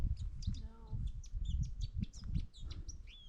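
Bird in Denali park calling repeatedly, giving a run of chirps and short whistled notes over faint low rumble, moderately near, with quiet background talk.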